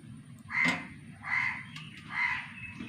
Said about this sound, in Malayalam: കാക്കൊന്നും വിളിക്കുന്നു കേട്ടോ